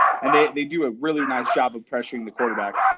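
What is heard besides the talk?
small chihuahua dogs barking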